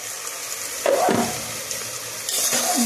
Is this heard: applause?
no